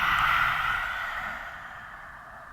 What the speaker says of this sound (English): Lion's breath